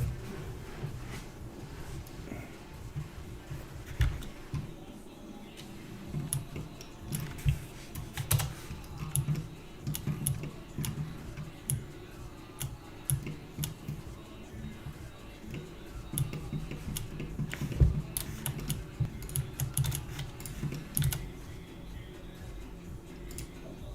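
Fast, steady typing on a mechanical keyboard with Cherry MX Blue switches gives close, crisp clicky keystrokes in irregular bursts, with brief pauses and faint room sound underneath.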